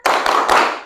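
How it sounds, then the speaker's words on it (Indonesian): Three quick claps from a class of schoolchildren in an Indonesian classroom, performing the rhythmic 'tepuk semangat' spirit clap in a short, loud burst with no voices. "kita tepuk semangat terlebih dahulu ya"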